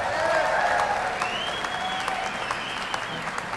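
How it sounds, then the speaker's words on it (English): Enthusiastic applause and cheering from an audience for a performer at the Fender NAMM 2008 gala, a dense steady clapping crowd with a voice briefly heard over it. "Let's have another round of applause for Jimmy here."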